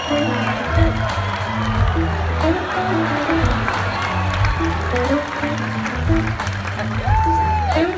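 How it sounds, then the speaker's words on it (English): Audience at the Greek Theater applauds and cheers during a concert; steady, dense clapping with whoops runs loud and continuous, with sustained band music and a voice under it. "round of applause for Danny."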